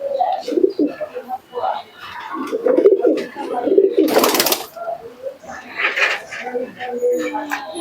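Mayna Jack pigeons, a black Teddy-type breed, cooing in a loft, with low rolling coos in uneven bursts, close by, mixed with a person talking and a brief burst of noise midway.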